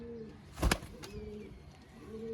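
A golden pigeon coos softly close by, a low rolling call repeated a few times, broken by a brief flutter or clatter.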